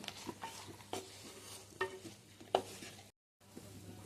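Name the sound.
ivy gourd curry frying with cumin and coriander powder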